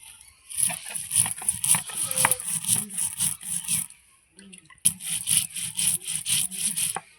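Black mustard seeds and green chillies are ground on a grinding stone by hand, a rhythmic rasping scrape repeating in quick back-and-forth strokes, near and clear, with a brief pause midway before the grinding resumes.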